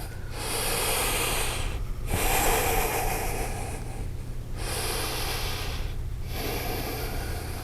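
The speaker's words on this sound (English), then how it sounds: "Breathe big, generous breaths" Deep, generous yoga breaths, close and loud, rising and falling in long drawn-out cycles with brief pauses between, over a steady low hum.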